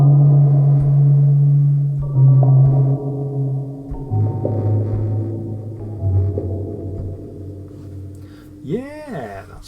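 A single mall piano note, sampled and drenched in heavy reverb, rings out in sustained, slowly decaying tones that layer and blur, with a brief warbling chirp near the end.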